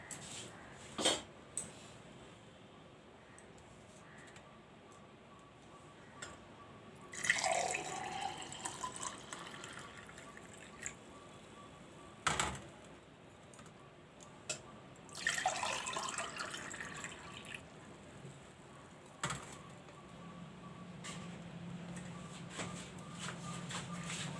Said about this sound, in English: So now I'm going to pour this in the glasses.